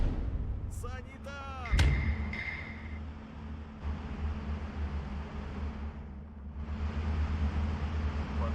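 Artillery fire in the WW2 real-time strategy game Steel Division 2 rumbles through a steady battlefield din, with one sharp, loud report near the two-second mark and broad, low, noisy rumble continuing around it. People talk over it.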